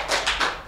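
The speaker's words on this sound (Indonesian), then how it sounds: "Tepuk tangan untuk bosnya." Brief applause for a school principal at a vocational school event, a short, soft patter of hands clapping that fades out within a second.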